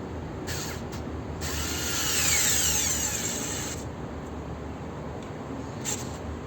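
A power screwdriver with a telescopic extension bit drives a screw, giving a close whirring burst of a few seconds with brief shorter whirs before and after over a steady background hiss.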